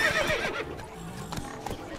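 A horse in The Witcher 3 video game gives a loud, close whinny that fades out, while hooves clop in quick rhythm underneath.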